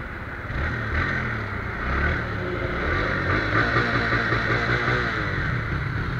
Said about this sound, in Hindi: तो गाइस हम चला रहे हैं अब रेडर